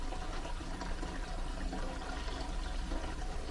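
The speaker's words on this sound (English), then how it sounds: "the next step is to fill the aquarium up the rest of the way" Water pouring steadily into a freshwater aquarium as it is filled the rest of the way, with a bowl set on the gravel bottom; a continuous close rushing, splashing wash with no talk.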